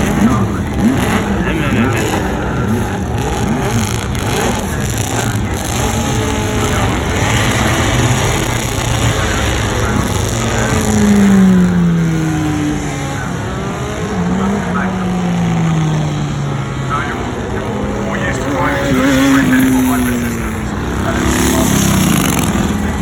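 A race car accelerating at the Goodwood Festival of Speed, its engine note rising and sweeping in pitch as it gathers speed, loud and sustained against a steady crowd-and-engine background.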